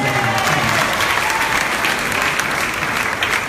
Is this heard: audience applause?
yes